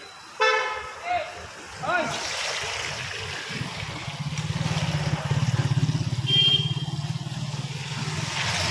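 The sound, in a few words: street traffic with honking vehicles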